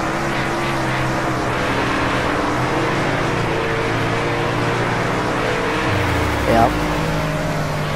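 Race car engine from World of Outlaws Racing at Eldora Speedway, a steady loud drone on a final lap that holds through the clip, with a brief rising rev near the end and a short spoken word.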